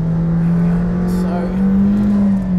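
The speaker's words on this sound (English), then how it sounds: "I'm sure you can hear as well as just how razor sharp the gearbox is." An 800hp McLaren Senna hypercar's engine drones steadily from inside the cabin with a strong low tone, rising slightly in pitch as it pulls, loud and continuous.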